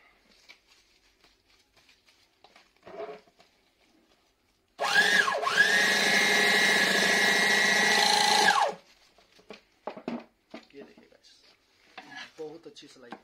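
A Revo bag sewing machine, model DA, stitches in one steady, loud whirring run of about four seconds, with quieter handling sounds before and after.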